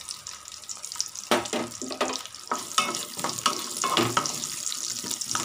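Small shallots (sambar onions) added to hot oil in a pan for a bitter gourd (pavakkai) kuzhambu, giving a close, uneven sizzle with clattering stirs and scrapes throughout, water-like splashy texture.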